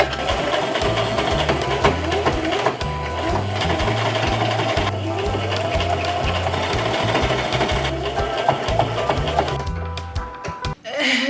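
Sewing machine stitching a thrifted top, running loud and close with a steady rapid mechanical chatter that speeds and slows in runs, ending in a few brief clunks.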